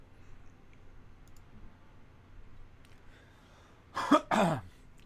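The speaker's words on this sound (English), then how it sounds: "Excuse me for coughing." Two sharp coughs burst out close up near the end, after a few seconds of quiet room noise with faint clicks.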